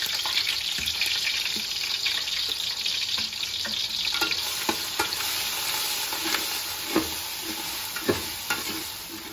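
Rice sizzles in a hot pot with ground spice paste during village-style home biryani cooking, a loud, steady frying hiss broken by sharp scraping stirs and clinks at irregular intervals, with no talking.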